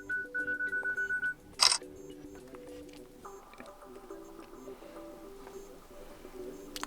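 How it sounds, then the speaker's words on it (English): A Samsung Galaxy F22 self-timer gives a quick run of about five evenly spaced beeps, then one crisp shutter click, followed by a low, faint electronic tone. "choose, for example, 5 seconds and press the shutter button, photo will be taken after 5 seconds"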